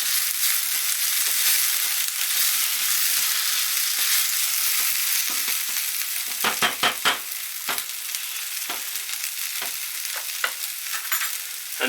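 Onions browning in a frying pan give a steady bright sizzle, broken by scraping stirs and crackling bursts midway, close and continuous with no talk.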